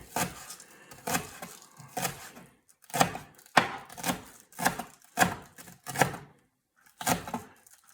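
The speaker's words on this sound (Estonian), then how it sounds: "Roheline sibul läheb hästi peeneks hakituna." A knife finely chops green onion on a board in quick, crisp bursts of taps, each run a few strokes long, with short pauses between them and no talking.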